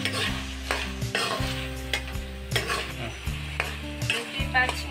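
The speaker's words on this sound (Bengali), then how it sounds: "চিংড়ি মাছটাও আমি পেঁয়াজের সাথে হালকা ভুনা করে দিচ্ছি।" Prawns fry with onion in a pan for a papaya and prawn dish, a steady close sizzle broken by repeated scraping stirs, the ingredients shuffled rhythmically across the pan with no voices.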